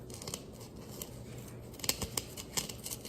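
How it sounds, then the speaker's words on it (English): Scissors snipping foam at the base of a tabletop pumpkin topiary cone, a quiet close series of irregular crisp cuts with light rustling between them. "Now I need to trim off this part that's on the bottom here."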